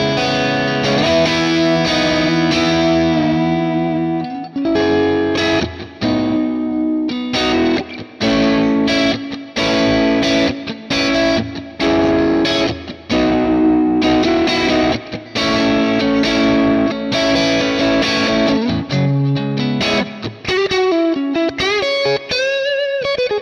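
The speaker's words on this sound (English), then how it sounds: "I treat this like my go-to Hall reverb sound." An electric guitar plays chords and runs through a Quad Cortex hall reverb, heavy and spacious, letting notes ring and blur into one another, fairly loud.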